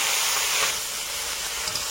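Chopped onion dropped into hot oil with whole garam masala in a kadai, giving a steady bright sizzling hiss that swells briefly and then holds evenly, close and fairly loud, with no talk over it.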